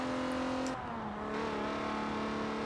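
A turbocharged JDM car engine in Forza Horizon 4 holds a steady revving tone, dips briefly, then climbs back to a sustained drone. It is loud, close and unbroken, with no talk over it.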